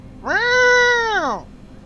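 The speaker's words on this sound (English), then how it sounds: "Cats are making noises and they're looking at me." A single loud, drawn-out meow from a nearby cat, rising then falling in pitch over about a second, with no other sounds.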